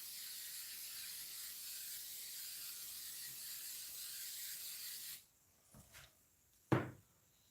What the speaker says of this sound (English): There's a goodly amount of spray adhesive on here.